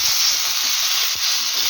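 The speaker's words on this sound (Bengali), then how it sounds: "ততক্ষণ এটাকে ফ্রাই করব।" Tomatoes and boiled potatoes fry in a pan with a steady, close hiss and sizzle, broad and even throughout, with faint clinks under it and no talking.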